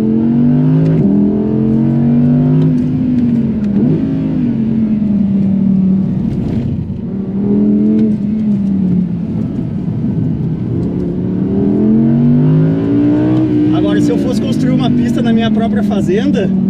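Audi RS 6 wagon with 600 hp accelerating hard on a tight track, a loud droning engine note rising and falling through gears across the whole stretch, with someone talking over it.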